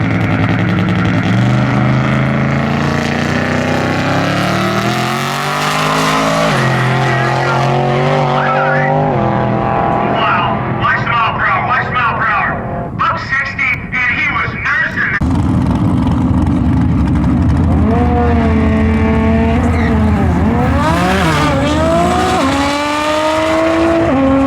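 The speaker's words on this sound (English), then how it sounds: "I think they're getting ready to run that Buick over there real quick" A Buick car making a drag strip run, its engine revving loudly with shifting pitch and tire squeal alongside, close by and continuous, with crowd noise and voices mixed in.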